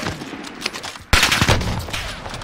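Shotgun fire in the video game Warzone, loud close blasts with a sudden heavy shot that bursts in near the middle and leaves dense rumbling echoes and rapid follow-up reports.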